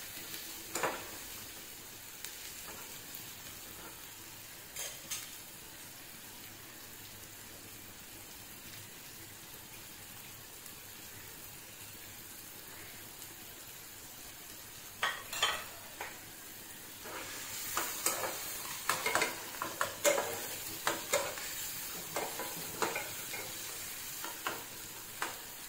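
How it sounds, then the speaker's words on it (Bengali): Spices and vegetables stirred in a frying pan while making dim bhujia, a steady soft sizzle with scattered scraping clicks of the spoon that grow busier toward the end, no voices. "আবার একটু ভালো করে মশলাগুলো সবজির সাথে মিশিয়ে নিলাম নেড়ে চেড়ে।"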